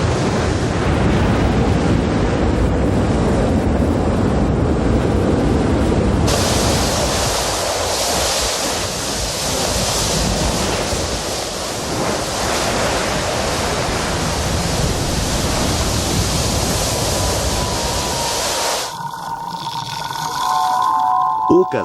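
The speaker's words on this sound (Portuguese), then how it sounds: "a costa se torna um caldeirão fervente quando o fogo e a água se encontram" Lava flows into the ocean along a volcanic coast, where the water boils and surf crashes, making a dense, loud hissing roar that rumbles continuously and shifts in intensity throughout.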